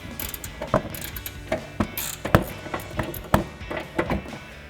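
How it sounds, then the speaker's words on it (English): A 21mm ratcheting wrench works the rear mount nuts of a front lower control arm on a 2010-2014 Mustang, giving a run of sharp close ratchet clicks and clunks in an irregular rhythm with no talking. "I've got 21mm ratcheting wrench here."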